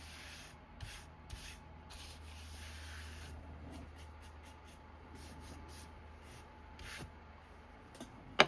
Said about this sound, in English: I'm going to go ahead and brush off my sandpaper.